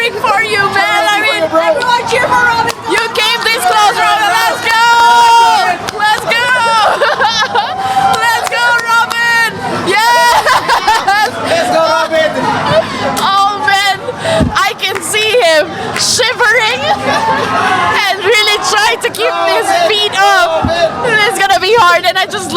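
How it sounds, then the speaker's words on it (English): A crowd at a national esports championship 3-hour endurance race cheers on racer Robin, a dense, loud hubbub of many overlapping voices, whoops and shouts that holds steady throughout. "everyone, the crowd, even his competitors, are cheering for him to finish up this challenge"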